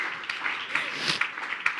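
A church congregation claps during a worship service, with a short burst of scattered, fairly close hand claps that run under a voice.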